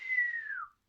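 A person whistles alone, imitating a farmer's dog whistle: one close, clear, sustained tone under a second long that slides downward at the end and then stops.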